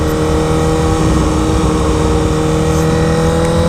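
A 2013 Honda CBR 1000RR motorcycle engine pulls hard on a ride toward a small town, a loud, steady, close engine roar with no talking.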